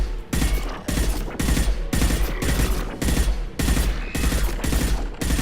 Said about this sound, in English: Это не самый точный пулемет.